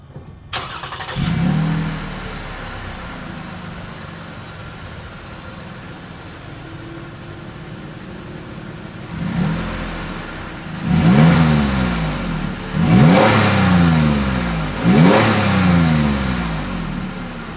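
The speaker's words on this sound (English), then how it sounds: "As always, here is that exhaust clip." A 2020 Lexus RX 350 F Sport with dual chrome-tipped exhaust starts, idles steadily, then revs in three sharp, rising bursts before settling back, close and loud with no talking.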